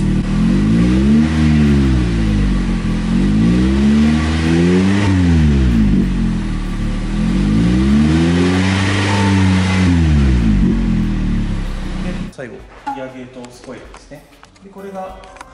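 A Toyota Harrier (80 series) engine with an aftermarket muffler revs up repeatedly in loud, throaty swells, rising and falling in pitch, then settles and cuts toward quieter sounds at the end.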